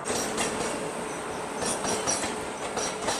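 The Ernakulam Tatanagar Express rolls past at close range, a steady loud rumble of wheels on rails with rhythmic clacks and faint squeals throughout.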